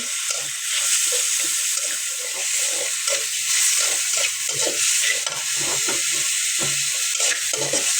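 Garlic, chilli and onion fry with salt in a pan while a spoon stirs them, making a bright, constant sizzle with rhythmic scraping strokes throughout, close and fairly loud.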